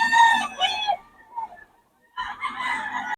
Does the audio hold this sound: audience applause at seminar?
no